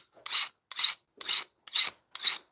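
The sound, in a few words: filing with a radius rasp file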